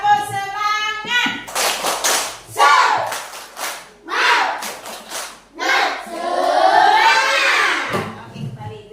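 A classroom of children claps in quick rhythmic bursts during a spirited clapping chant, with loud, near claps alternating with energetic chanting and shouting voices.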